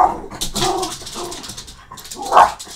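A dog whimpers and whines close by in a few short, uneven cries, with one louder high whine near the end.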